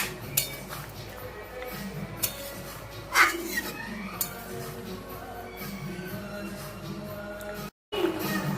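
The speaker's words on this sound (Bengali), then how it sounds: "15 মিনিট হয়ে গেছে, ঢাকাটা খুলছি।" A metal lid lifts off a pot of simmering chicken and potato curry with a sharp clink and clatter, set against steady cooking and kitchen noise, followed by a few lighter utensil taps.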